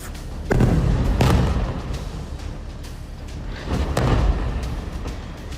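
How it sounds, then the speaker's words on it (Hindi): Two heavy booms a few seconds apart, each a deep blast trailing into rumbling noise, loud and distant-sounding, no talking. "सिर्फ 8 सेकंड और 2 धमाके।"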